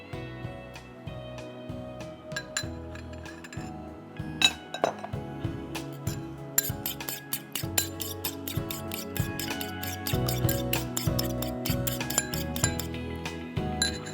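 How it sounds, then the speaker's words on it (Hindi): An egg beaten with two tablespoons of milk in a bowl, quick rhythmic clinking of a utensil against the bowl that speeds into a fast steady whisking, close and clear. "एक अंडा फेंट लीजिए, साथ में 2 टेबलस्पून दूध डाल दीजिए"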